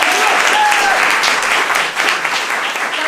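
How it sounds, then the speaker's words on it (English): Cabaret of Dangerous Ideas audience gives a big, loud round of applause, dense clapping sustained throughout with a few cheers and voices mixed in, easing slightly toward the end. "Big round of applause for all of us."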